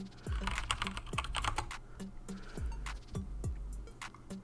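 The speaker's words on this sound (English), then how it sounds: "then just type exclamation point create bot" A computer keyboard being typed on in quick, uneven bursts of crisp key clicks, with deeper thumps from heavier keys such as the space bar or enter, close up and with no one talking.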